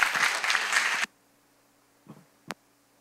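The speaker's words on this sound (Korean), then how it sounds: "격려의 박수 부탁드립니다" Applause from a church congregation after a talk at a Baptist worship service, a dense burst of clapping for about a second that stops abruptly, followed by two faint isolated claps.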